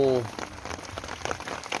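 Heavy rain falling during a fishing trip, a steady dense patter of drops on surfaces, close and continuous after a brief voice at the start.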